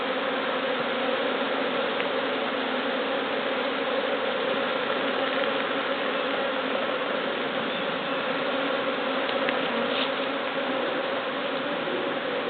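Honey bees swarm around an open hive, their dense buzzing a steady, loud drone close by, with no talking over it.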